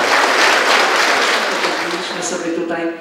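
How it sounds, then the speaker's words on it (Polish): A crowd at a Fat Thursday village gathering applauds warmly, loud dense clapping that fades toward the end as voices begin to emerge. "Dariusza Klimczaka, gorące brawa!"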